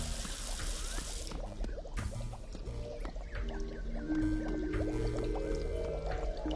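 Water running from a tap in a video game, a steady pouring and splashing stream with scattered drips and clatter, continuing throughout at moderate level with game music underneath.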